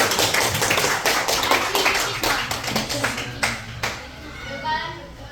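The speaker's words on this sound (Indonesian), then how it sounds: "tepuk tangan untuk kita semua" A class of students claps hands in a lesson, brisk repeated claps that thin out toward the end while children's voices and chatter mix in underneath.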